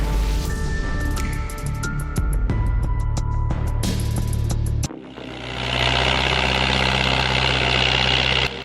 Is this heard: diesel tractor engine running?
yes